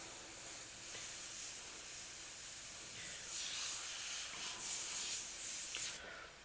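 An airbrush sprays paint in a steady close hiss that swells and eases across several passes, then cuts off near the end.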